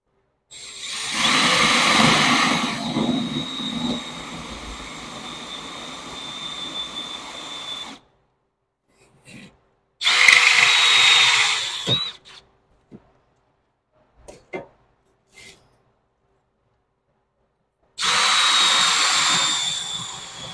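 Power tool with a Rotocut bit cutting out metal on a VW battery box, in three loud whining bursts separated by quiet pauses and a few faint clicks.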